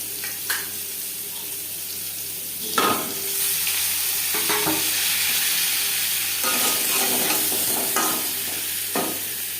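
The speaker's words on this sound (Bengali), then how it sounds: "মাছ ভেজে নেওয়া কড়াইতে আবারও তেল দিয়েছি দিয়ে দেবো আলু" Quartered potato pieces sizzle and fry in hot oil in a wok previously used to fry rohu fish, a steady crackling hiss broken by occasional clattering stirs, with no talk.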